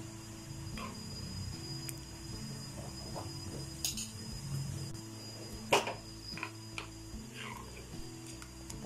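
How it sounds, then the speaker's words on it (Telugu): Tempering seeds dropped into hot oil in a pan while making raw banana chutney, giving scattered light pops and ticks over a low steady background hum, faint and close with no talk. "ఇప్పుడు ఆయిల్ హీట్ అయ్యింది తాలింపు మీద వేసుకుంటున్నాను"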